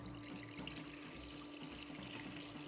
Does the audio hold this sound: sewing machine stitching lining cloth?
no